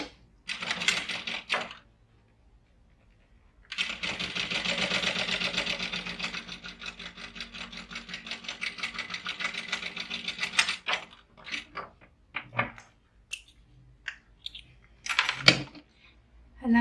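Sewing machine running a line of top stitching along a pouch seam, a steady rapid mechanical whir from about four to eleven seconds, then short stop-start bursts, close and fairly loud.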